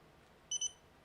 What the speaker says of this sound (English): and we should hear the beep